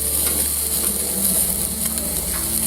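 Sauced baby back ribs sizzle steadily on a grill, a loud, continuous crackling hiss with no talking.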